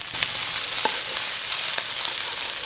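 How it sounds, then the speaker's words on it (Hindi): Cubed capsicum fries in a hot pan for vegetable fried rice, a steady, close, loud sizzle broken by a few stirring scrapes. "इसको हमने 25 से 30 सेकंड के लिए फ्राई किया है"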